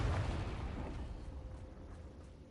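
A blasting-spell explosion from the Hogwarts Legacy video game bursts with a heavy, deep boom at the start, then fades into a rumbling decay with no talk.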